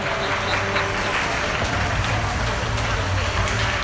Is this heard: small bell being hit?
no